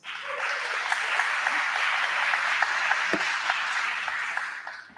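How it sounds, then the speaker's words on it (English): A conference audience applauds as a speaker is welcomed to the stage, a dense sustained patter of clapping with a few sharper claps standing out, fading at the end. "Give her a big round of applause."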